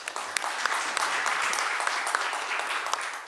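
Steady, dense audience applause in a hall following a professor's talk on early warning and food system resilience, a continuous wash of many hands clapping with no voices on top.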